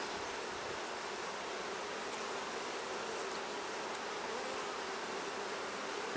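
Honeybees buzz in a continuous dense hum during an inspection of a queenless hive, close and steady throughout with no talking.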